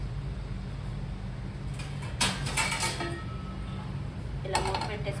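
A lid is set onto a cooking pot on a stove turned to low, giving two short metallic clinks over a steady low hum of background noise.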